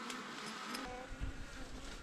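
A large, crowded wild bee colony drones at its nest in cold winter weather, a dense, steady buzz of many insects close by with no voices.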